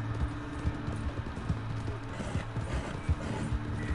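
Horse hooves clip-clopping at a steady walking rhythm in Red Dead Redemption 2, moderately close over low ambient background, with no talking.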